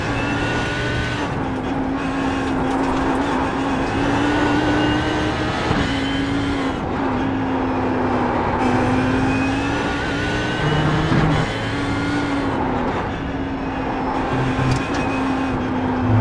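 Audi R8 GT3 race car engine in the iRacing simulator at Oran Park, a steady loud drone held at high revs with small dips and rises through corners, no talk.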